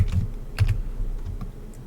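Short bursts of typing on a computer keyboard while banner text is entered in Figma, a handful of crisp keystrokes in two quick clusters, close and isolated with no speech.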